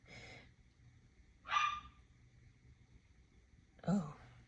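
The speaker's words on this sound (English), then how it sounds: "It must be my doggy" A dog barks indoors in the background, two short, faint barks a couple of seconds apart over quiet room noise.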